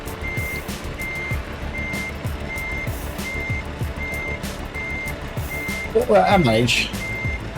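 A reversing Scania V8 truck in Euro Truck Simulator 2 gives a steady, evenly spaced series of beeps over the engine's rumble, while someone talks through the final seconds.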